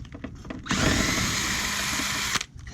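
A power tool with an 8mm socket spins off a nut on a used 50cc scooter during a teardown, a close high whir lasting under two seconds between quiet handling noises.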